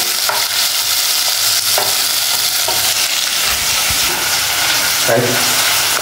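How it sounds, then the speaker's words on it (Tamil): Fish curry being tempered in a pan in a Sri Lankan Tamil home kitchen: loud, continuous sizzling from hot oil, broken by scraping stirs throughout. "மீன் குழம்பு தாளிச்சு வைக்க போறோம்."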